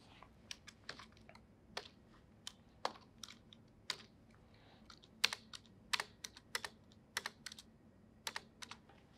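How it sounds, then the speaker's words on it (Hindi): A computer keyboard clatters as a generator matrix is entered in MATLAB, with many quick, irregular keystrokes in bursts and short pauses, close and fairly crisp, with no voices. "आइए दोबारा से जनरेटर"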